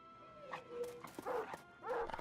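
A dog in the video game Battle Brothers gives a few short barks and whining yelps in quick succession, moderately close and fairly quiet.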